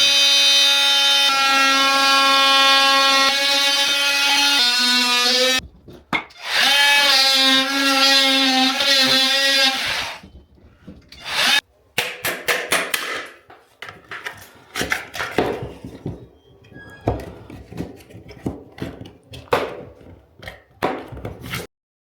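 Power tool cutting socket holes in a garden office wall board, a steady high whining motor run for several seconds, then choppy bursts and rattling knocks as pieces are cut and worked free, close and loud.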